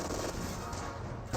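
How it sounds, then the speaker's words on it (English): Machine gun fire from a Soviet T-34-76 tank's hull-mounted and coaxial guns in the Company of Heroes 2 strategy game, a dense continuous burst of gunfire lasting about a second and a half, loud and steady with a sharp jump at the end. "their hull mount and coaxial machine guns do offer good fire support as well"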